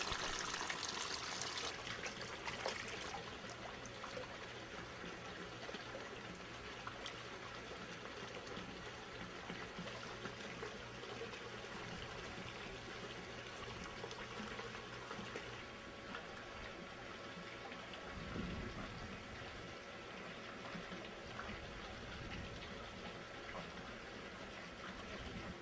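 Water runs steadily and fills koi tubs during a water change on a koi farm, a continuous close rushing wash with a low engine hum beneath it.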